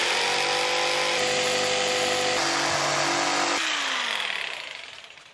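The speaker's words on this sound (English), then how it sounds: "Might be kind of tricky to cut out with the jigsaw" A jigsaw cuts through wood during a camper van kitchenette and cabinet build, a loud continuous buzzing whine that shifts pitch partway through and then winds down at the end, with no voices.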